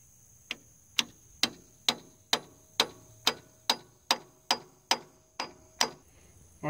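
A broken steel chisel is hammered against the injection pump shaft hub of a Farmall 706 diesel tractor, giving about a dozen sharp metallic taps at a steady, even pace, close and ringing, with no talking.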